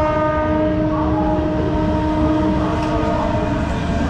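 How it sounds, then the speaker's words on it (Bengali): An LHB-coach Black Diamond Express train pulls out of Bandel station, a loud steady rumble with sustained horn-like tones running throughout, close and continuous with no talk. "ব্যান্ডেল থেকে আমাদের ট্রেন ছেড়ে দিল।"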